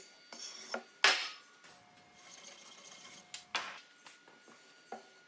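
A knife blade forged from forklift chain Damascus steel is drawn across whetstones in separate rasping, ringing strokes, close and clear, several swipes with quiet gaps between them.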